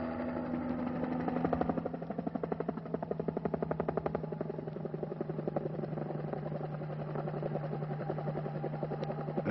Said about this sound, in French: du haut de notre hélicoptère, qui survole actuellement la fameuse piste aérienne